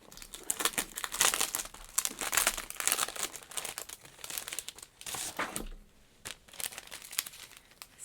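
Plastic wrapping around a pack of collage papers crinkles and rustles up close, in steady handling bursts with a short lull near the end, no voices.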